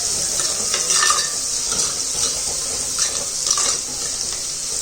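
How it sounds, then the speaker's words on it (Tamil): Onions and tomatoes sauté in a hot pan after mustard seeds have popped, for a Chettinad-style curry. A steady close sizzle runs throughout, broken by repeated scraping stir strokes. "இது தக்காளி வதங்கட்டும், அது வெங்காயம் வதங்கட்டும்"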